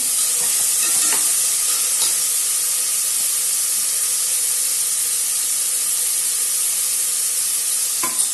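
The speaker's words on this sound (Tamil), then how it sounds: "இது நல்லா வதங்கட்டும்" Vegetables sautéing in a pan for a vegetable biryani, a steady close sizzle and hiss with a few stirring knocks, continuous and fairly loud with no talk.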